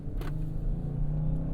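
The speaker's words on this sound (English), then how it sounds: "Then when you get on it, the engine comes alive." A Lexus LS 500h hybrid's engine starts up under acceleration from electric mode, a low, steady hum and rumble heard from inside the cabin, faint and even, with a brief soft whoosh near the start.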